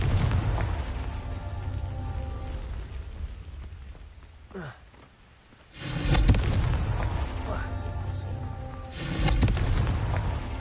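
Confringo blasting spells explode in Hogwarts Legacy, deep booming blasts with whooshing casts arriving in two heavy bursts around a quieter middle stretch, set against game ambience.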